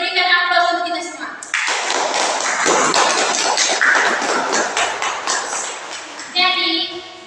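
Applause from a fourth-grade Indonesian language classroom erupts suddenly, a dense burst of many small hands clapping fast for several seconds before tapering off, with children's voices around it.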